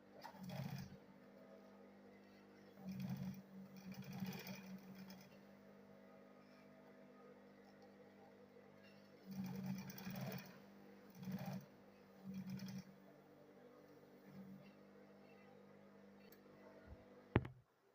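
A sewing machine stitching fabric for a bag made from an old bag runs in short, quiet bursts separated by pauses, in an otherwise hushed room.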